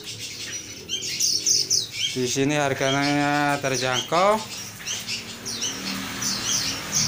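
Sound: birds chirping at a bird kiosk in a fruit market

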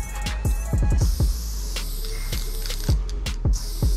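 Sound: spray can hissing downstairs

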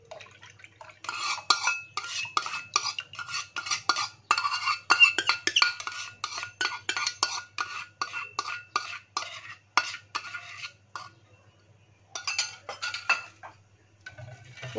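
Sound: stirring yogurt into milk in a pot

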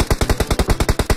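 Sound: gunfire in PUBG Mobile video game

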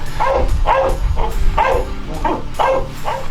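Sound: dog barking, search and rescue shepherd

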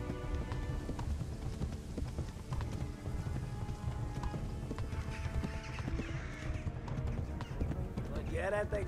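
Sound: horse galloping hooves in video game Kingdom Come: Deliverance

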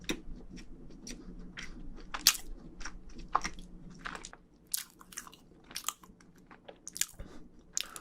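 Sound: chewing scone with jam, mukbang

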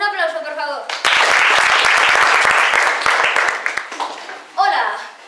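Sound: audience applause

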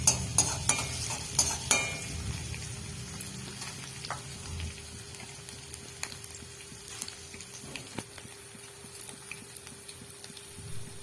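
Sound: ginger and garlic frying in oil

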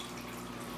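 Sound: aquarium water draining into a collection bucket

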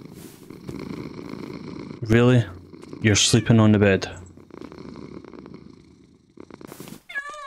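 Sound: cat purring in Minecraft, video game

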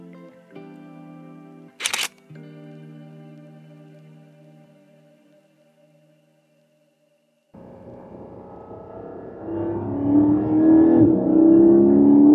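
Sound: Porsche Cayman GT4 engine revving high

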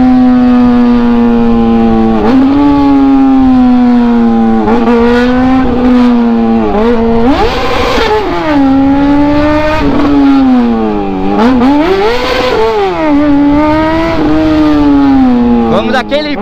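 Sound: Honda CBR motorcycle ridden fast through traffic

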